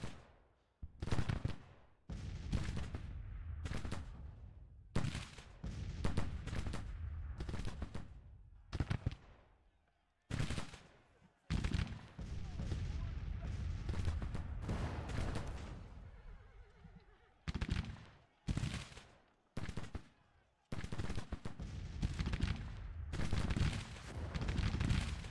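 Bursts of artillery and massed gunfire from a Civil War battle in Grand Tactician: The Civil War, loud crackling volleys separated by short silences, with horses whinnying among the shots.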